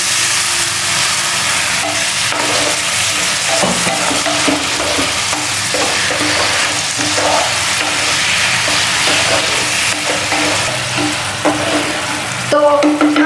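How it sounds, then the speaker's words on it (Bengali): Water splashes into a hot pan of boiling potatoes, setting off a loud, continuous sizzle and hiss with scattered scraping and clinking of a utensil against the pan throughout. "একটুখানি জল দিয়ে দিই।"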